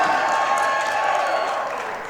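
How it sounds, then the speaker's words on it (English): Crowd applauding and cheering at an Averett versus Salem women's basketball game, a loud, steady wash of clapping and voices in a gym that fades slightly toward the end. "As the crowd responds to the attack there"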